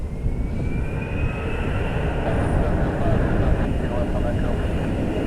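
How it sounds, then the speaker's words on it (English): A Delta Airbus A321 jet taxiing out at Orlando International airport gives a loud, steady engine roar with a faint rising whine, heard close by alongside some talking. "Delta A321 heading out."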